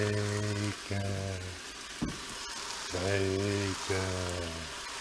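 Bacon sizzles and crackles steadily in a pan in a home kitchen, a soft hiss running throughout beneath a low tonal hum that starts and stops.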